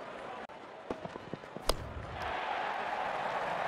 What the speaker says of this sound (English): Wonderful sound of the bat.